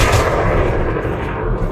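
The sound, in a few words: weapon fire in a video game, incendiary frags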